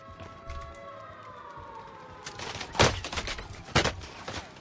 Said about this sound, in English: Let me get a precision airstrike.